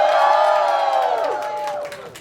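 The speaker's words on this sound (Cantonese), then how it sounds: "我哋俾掌聲佢哋啦" A concert audience at a K11 Art House thank-you screening cheers and whoops loudly, the crowd noise fading gradually over a couple of seconds with scattered claps.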